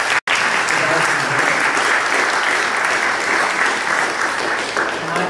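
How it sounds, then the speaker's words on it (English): Dense, steady applause from an audience in a church community gathering, sustained at full strength for several seconds with no voices breaking through. "Let's give a round of applause to the vendors."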